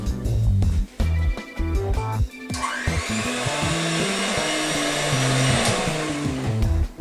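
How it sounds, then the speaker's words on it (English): An electric beater whisks egg and milk in a bowl, a loud close motor whine that surges and drops in pitch as the beaters move, running continuously with brief dips. "Then whisk with an electric beater or by hand."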